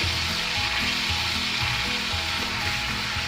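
Tofu frying with garlic in a hot pan, a steady loud sizzle with bright crackling and faint scraping stir strokes throughout, no talking.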